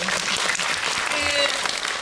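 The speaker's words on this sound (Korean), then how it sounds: "박수 부탁드릴게요" An audience at a film screening and director talk applauds in a steady, dense wash of clapping that lasts the full two seconds, with faint voices beneath.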